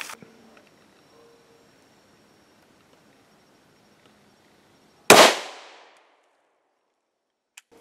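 A single sharp, loud gunshot from a 5.7 pistol firing an Elite Ammunition S4M steel-tipped round into a ballistic helmet, cracking out of near silence and ringing off briefly before quiet returns.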